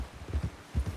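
Horse hooves clip-clop in Red Dead Redemption 2, four soft muffled footfalls in an uneven walking rhythm, close and moderately loud, with no voices.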